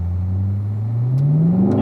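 A race car accelerates back up through the gears on a circuit, its engine note rising steadily in a loud, close, continuous drone with no talk over it.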